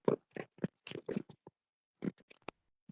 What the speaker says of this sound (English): Diana sounds like they're chewing on a dog biscuit